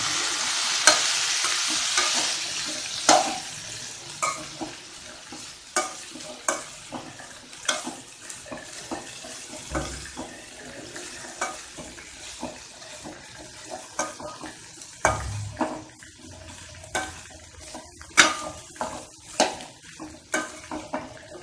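Chickpeas sizzle in a frying pan while a spoon stirs them, giving repeated scraping strokes over a steady, close frying hiss with no talking.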